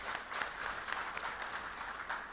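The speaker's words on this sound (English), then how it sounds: "I think they deserve a big round of applause for that." Audience applause at an agricultural data exchange event held at a Novotel, with steady, moderately distant clapping filling the whole moment at an even level.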